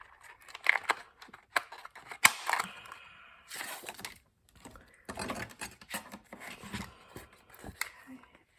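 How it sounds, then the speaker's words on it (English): Paper punch pressing out balloon shapes from a sheet, giving several short crisp clicks and crunches at irregular intervals with quiet rustling between, close and moderately loud. "I'm punching out 4 balloons"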